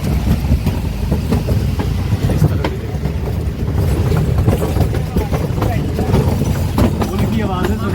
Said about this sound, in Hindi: पुल की आवाज़ें सुनी थी, लकड़ी के पट्टों की।